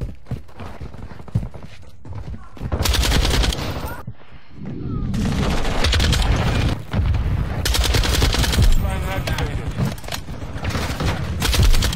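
Rapid automatic rifle fire from a Lachmann 762 in Call of Duty: Modern Warfare 2, loud sustained bursts with brief pauses between them, and other in-game gunfire and effects mixed in.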